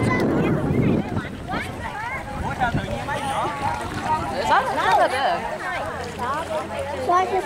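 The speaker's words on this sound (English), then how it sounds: "Why is this windy?" Wind buffets the microphone outdoors while tubing on a northern Michigan river, a low rumbling gust strongest at the start, with people talking over it through most of the clip.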